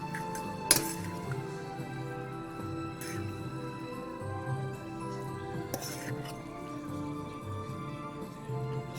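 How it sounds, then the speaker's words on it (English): Instant Maruchan bukkake udon noodles being stirred in a bowl, with a few sharp clinks of utensil against the bowl over a steady low background hum. "we're going to give this a nice, hearty"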